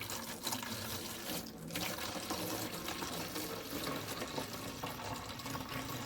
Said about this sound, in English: And pour juice into clean empty container.